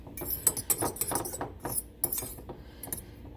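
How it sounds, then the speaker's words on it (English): A small fork stirs dry keto pound cake ingredients, baking powder among them, in a bowl, giving a quick series of light metallic clinks and scrapes close to the microphone and quite faint, with no talking. "Take a little fork, mix it all up"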